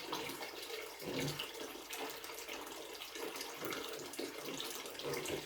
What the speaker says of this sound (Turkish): dökerken bakacağız herhangi bir karides falan çektik mi diye. Böyle biraz azaltıyoruz suyu.